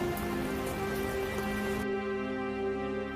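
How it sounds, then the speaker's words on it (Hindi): Heavy rain falls in a cartoon scene, a steady dense hiss that drops off sharply partway through, leaving a faint tonal background. "बारिश भी तेज थी"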